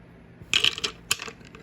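Dice clatter across a table during a Global War 1936 board game, in two quick rattling bursts a moment apart, fairly close.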